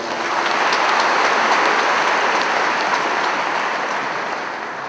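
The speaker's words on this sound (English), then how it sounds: "may I request you to give him a warm round of applause" A large audience applauds at a university convocation ceremony, a loud, sustained, even roar of many clapping hands that holds steady and tapers slightly toward the end.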